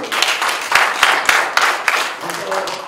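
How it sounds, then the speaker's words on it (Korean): Audience at a horse trainers' association symposium and panel discussion claps in scattered, uneven bursts that fade toward the end, with some talk mixed in. "그럼 박수 좀 보내주시고요."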